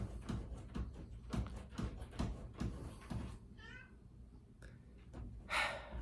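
A pet tabby cat named Farley gives a few short meows partway through, mixed in among a person's talking with some background chatter.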